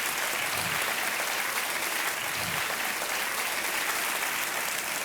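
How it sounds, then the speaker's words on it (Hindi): Dense, sustained applause from a KBC (Kaun Banega Crorepati) studio audience fills the whole stretch at steady loudness, with no voices rising above it. "तालियों के साथ इनका अभिनंदन किया जाए"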